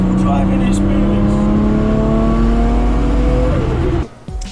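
An RB26-swapped Datsun 240Z holding boost to the redline, its engine revving loud and close with a rising harmonic tone before cutting off abruptly near the end.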